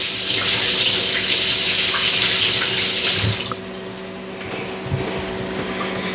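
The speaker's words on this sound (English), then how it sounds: "Let me rinse off my hands real quick." A kitchen tap runs steadily for about three seconds while hands are rinsed in a sink, then shuts off, leaving quiet room noise with a couple of faint knocks.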